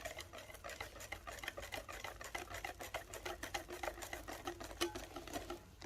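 A whisk beats rapidly against a bowl of cake batter in a fast, steady rhythm of light ticking clatters, quiet and close, with no one speaking.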